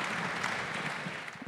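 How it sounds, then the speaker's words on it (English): An audience at the Pacific Bitcoin 2023 conference gives a round of applause: dense, steady clapping that fills the short stretch at even loudness. "Give a round of applause."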